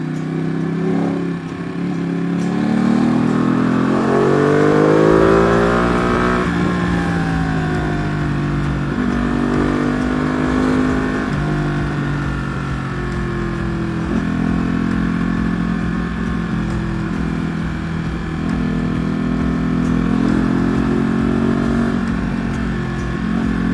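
Ducati Panigale V2 (Troy Bayliss edition) motorcycle ridden slowly on a small road behind traffic, its engine droning loud and steady with rising and falling revs, heard close up with no talk.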